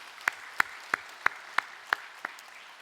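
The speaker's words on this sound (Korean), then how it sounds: "그 남편한테 박수 좀 쳐줘봐요" A short run of seven crisp, evenly spaced claps rings out in a church during a sermon, a steady rhythmic beat of hands honouring a husband, with no talking.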